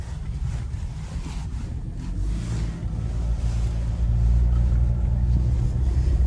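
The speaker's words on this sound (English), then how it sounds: "This is a really good road to test our vehicles out on. It's a rough road and how it handles." A 2010 Dodge Journey MPV rides over a rough road, giving a steady low rumble of road and engine noise with some wind buffeting that grows slightly louder over the span.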